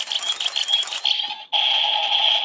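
The handle of the Zyuoh The Gunrod toy from Zyuohger is turned with a fast plastic ratcheting rattle, then a brief pause before a steady electronic tone sounds, close up and with no talking.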